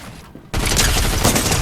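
SMG gunfire in Fortnite erupts after a brief quieter moment as a loud, rapid, sustained burst of shots that continues to the end.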